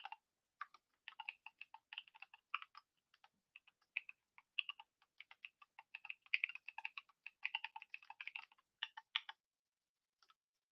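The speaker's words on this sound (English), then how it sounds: "Is my keyboard too clicky?" Clicky computer keyboard typed on in quick irregular bursts of sharp keystrokes, with brief pauses between runs, close and clear in an otherwise quiet room.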